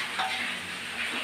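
Small anchovies (ikan teri) frying in hot oil in a pan in a Lombok kitchen, a steady close sizzle with soft bubbling crackle throughout, no voices.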